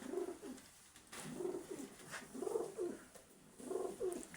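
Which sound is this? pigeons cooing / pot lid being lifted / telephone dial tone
pigeons cooing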